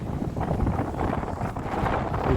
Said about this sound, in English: I'm going to follow the coast path right the way down to Dysart on this very windy morning